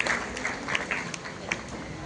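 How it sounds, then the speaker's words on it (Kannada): An audience at a music festival applauds to welcome artists onto the stage, a faint, steady wash of clapping from a crowd with a few sharper claps standing out. "ಜೋರಾದ ಚಪ್ಪಾಳೆಗಳ ಮೂಲಕ ಕಲಾವಿದರನ್ನ ವೇದಿಕೆಗೆ ಬರಮಾಡಿಕೊಳ್ಳೋಣ."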